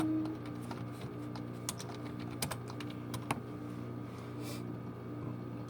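Quick, light keystrokes on a computer keyboard tap away in irregular bursts, close and soft, over a low steady hum in a quiet room.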